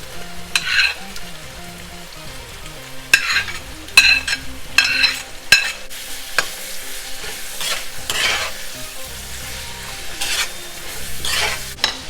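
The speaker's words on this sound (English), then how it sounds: "I'm gonna go ahead and put my onion" Onion frying in a pan sizzles softly while a utensil stirs and scrapes against the metal in repeated bursts, close and alone, with no talking.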